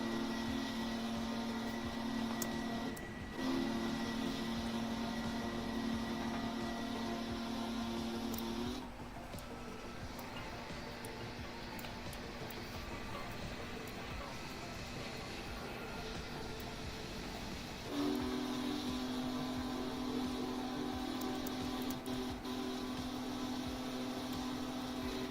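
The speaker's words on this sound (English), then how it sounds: "if you hold down enter, it'll change the whistle pitch" A steam locomotive whistle in Train Simulator Classic sounds in long sustained blasts, with the tone shifting between sections and brief breaks between them over a steady background hum, and no voices.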